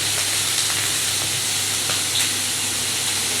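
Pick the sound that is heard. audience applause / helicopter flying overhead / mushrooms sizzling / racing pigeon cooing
mushrooms sizzling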